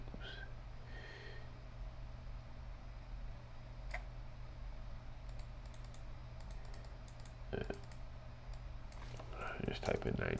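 Computer keyboard typing in a quiet room, a few scattered clicks and a brief burst of keystrokes near the end over a steady low hum.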